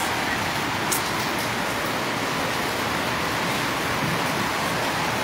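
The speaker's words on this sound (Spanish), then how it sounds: "Ya nos llovió, ya nos llovió aquí" Rain pours down at an outdoor street market, a dense, even hiss of drops on surfaces that holds steady throughout with no voices.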